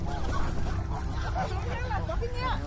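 Geese and ducks honk and call repeatedly amid a busy, crowded outdoor wildlife sanctuary while being fed, the birds' voices close and overlapping with background crowd hubbub.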